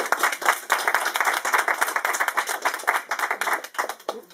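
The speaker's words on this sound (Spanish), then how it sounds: "un fuerte aplauso para él" A literary event audience gives an author a round of applause, steady rhythmic clapping from a modest crowd, moderately loud and sustained before tapering off.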